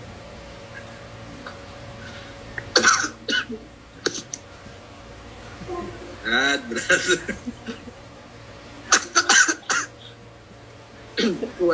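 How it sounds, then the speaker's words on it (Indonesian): Several harsh coughs and throat-clearing bursts in short clusters, fairly close and loud, with someone speaking briefly between them in a quiet room. "Kuat batuk pagi ini Ustaz."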